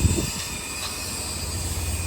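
A Sydney Trains Waratah electric train pulls out of St Marys Station, a steady broad rumble with a faint high whine holding level throughout at moderate distance, with no voices.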